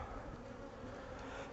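Honeybees from an open hive colony at peak-season strength, around 50,000 to 60,000 bees, make a dense, steady, close buzz that fills the whole clip with no let-up and no voices.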